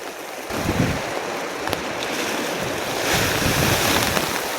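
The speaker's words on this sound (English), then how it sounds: "Man, how fast is that wind?" Strong gusting wind at 11,500 feet in the Colorado mountains ahead of an expected night of snow, a steady roaring rush that buffets the microphone and swells louder near the end, with no voices.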